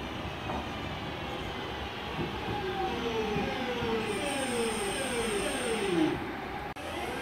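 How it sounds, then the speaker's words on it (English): Class 323 electric multiple unit 323218 pulls into Five Ways station on a Redditch to Lichfield Trent Valley service, with a steady rumble, descending whine of slowing motors, and a brief high squeal near the end. "Coming in now is the 1349 service to Lichfield Trent Valley, originating Redditch, 323218."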